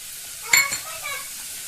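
A single burst of sizzling comes as chili powder hits a hot pan for a Maharashtrian-style spicy chicken curry, with a short stirring scrape. The crackle fades quickly into a faint, steady fry.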